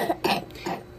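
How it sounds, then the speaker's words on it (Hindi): Close, harsh coughing comes in three quick bursts, rough and throaty, with no speech over it. "याऊ दवाएं बहुत सारी लेती है तो भी खांसी ठीक नहीं हो रही है"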